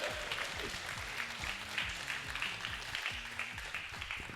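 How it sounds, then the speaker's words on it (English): Steady applause from a conference audience thanking the organisers, fairly quiet and continuous throughout, with scattered claps and a faint murmur of voices underneath. "So please give them a big round of applause."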